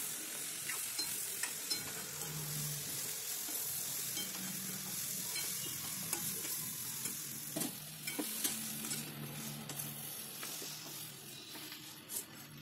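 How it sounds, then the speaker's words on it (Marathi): Okra (bhendi) fries in oil in a pan, giving a steady soft sizzle broken by scattered clicks and scrapes as it is stirred, close and fairly quiet throughout, no voices. "आधी थोडीशी भेंडी टाका, हलवून घ्या आणि नंतर परत पूर्ण भेंडी टाका."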